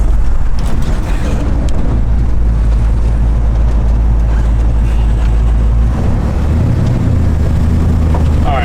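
A 1967 S-Code Ford Mustang is driven, its engine droning with a heavy low rumble under strong wind and road noise, with the pitch shifting near the end.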